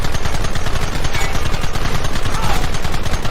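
Rapid sustained gunfire in Red Dead Redemption, a dense stream of loud close shots firing in quick regular bursts throughout.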